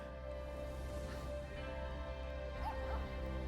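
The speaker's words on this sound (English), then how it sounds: "It's the puppy! The puppy! We got a puppy!" A puppy in a video game trailer yips, barks and whimpers in short bursts through faint background sound, with no voices over it.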